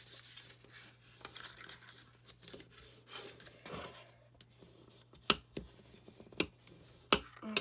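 Paper pieces being accordion-folded by hand give soft crinkles and creases, then a few sharp crisp snaps near the end, quiet and close with no talking.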